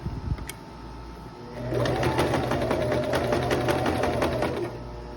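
A home sewing machine stitches a dress seam, starting up after a quiet moment and running steadily with a fast, even needle rhythm for about three seconds before easing off, close and clear with no talking.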